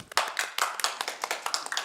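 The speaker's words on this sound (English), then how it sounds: "Don't be too loud, just a little clap." A small group clapping at a photography awards judging room, crisp distinct handclaps in a quick uneven patter, fairly close and alone without talk.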